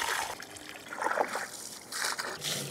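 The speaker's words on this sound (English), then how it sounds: "So I'm just gonna leave this hose on." Garden hose running water into a wheelbarrow, an uneven trickling and splashing that swells and fades in bursts, heard close with no talking.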